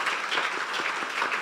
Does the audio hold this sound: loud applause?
yes